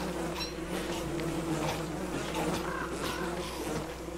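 Continuous buzzing of bees in the video game Don't Starve, a steady droning hum at moderate volume with faint ambient game sounds and no talk.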